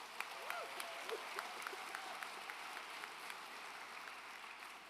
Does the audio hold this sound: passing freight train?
no